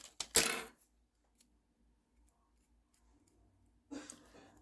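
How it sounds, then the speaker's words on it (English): Scissors snip quilling paper for a quilled luna moth, a crisp close cut at the start, then near silence before a second soft rustle of paper handling. "we're gonna cut it off at right there"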